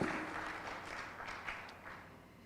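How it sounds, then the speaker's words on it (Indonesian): An audience claps at a panel discussion on Maluku tourism, a faint, steady wash of applause that slowly tapers off over a couple of seconds. "boleh tepuk tangan sekali lagi buat narasumber kami"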